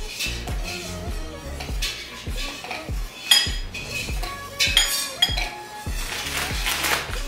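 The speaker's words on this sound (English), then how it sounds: "I'm gonna line the pan with the Biscoff" Biscoff cookies being laid into a pan to line it for banana pudding, with a run of light clinks and taps over a steady, evenly spaced low thumping beat.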